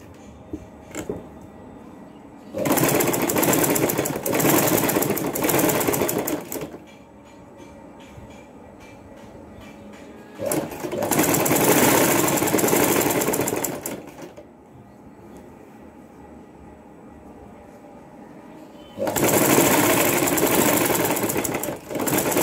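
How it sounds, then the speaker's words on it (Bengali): A sewing machine stitches a band collar on a dress in three loud, fast mechanical runs, each several seconds long, separated by quieter pauses. "এই যে মেশিনটাকে ঘুরিয়ে এভাবে গলার এই যে এই পাশে একটা সেলাই বসিয়ে দিতে হবে"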